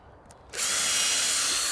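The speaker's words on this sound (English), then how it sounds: "pre-drill all these and fix them to the frame." A power drill bites into pallet wood on a chair frame, a sudden loud high-pitched whine starting after a short quiet pause and holding steady for over a second close by.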